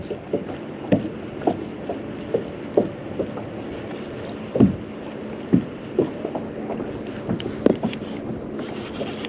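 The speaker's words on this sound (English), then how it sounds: "Wind is dying down." Wind noise rumbles steadily while fishing from a small boat, with regular soft knocks and splashes of water against the hull recurring every second or so, moderately loud and close, no voices.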